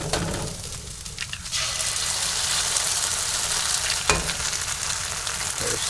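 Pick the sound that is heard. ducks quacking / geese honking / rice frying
rice frying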